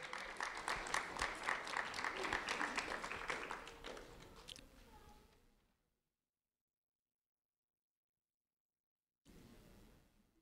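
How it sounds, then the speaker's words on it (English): A crowd claps for a second-grade student at a sheriff's office ceremony, with dense, steady clapping for about four seconds that thins out and stops. Silence follows, then a brief burst of sound returns near the end. "a round of applause for Elizabeth Phennicie,"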